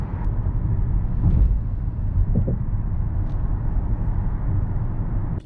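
A Genesis EQ900 with a 5000cc engine cruises on a highway at a steady 95 km/h under cruise control, giving a continuous low cabin rumble with road noise and a few faint bumps, no talk.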